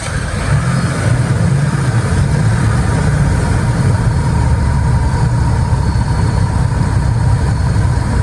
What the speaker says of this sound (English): So it has a brand new motor, and this thing runs like a dream.